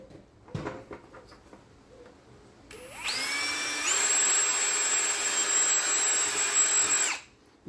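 A power drill with a 5.5mm bit bores bolt holes in a Mazda MX5 ND gearbox cooling scoop, a few clicks first, then a loud steady whine that spins up, holds for about four seconds and stops.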